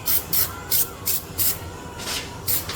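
Cleaner is sprayed onto a 1929 hot rod engine in a quick series of about six short, sharp hissing spray bursts, evenly spaced and close, with no voices.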